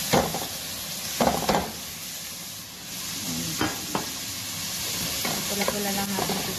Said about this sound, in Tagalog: isama ko na rin guys sa pagigisa yung luya